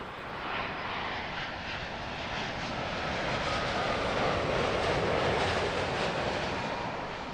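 An Egypt Air Boeing 777 arriving at Heathrow Airport on landing approach, a broad, steady jet roar that swells slightly and holds, heard from a distance with no talk over it.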